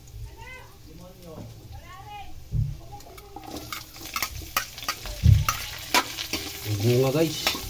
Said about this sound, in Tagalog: Niluto ko na guys yung dilis.